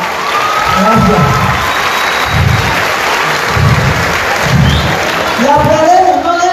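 A crowd at an outdoor community event in Montero applauds and cheers in a steady, dense roar of clapping that lasts throughout, with voices mixed in.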